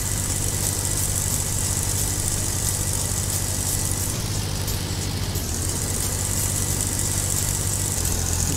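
A Swaraj 855 tractor engine in Farming Simulator 22 runs loud and steady, with a constant low, droning rumble and no pauses.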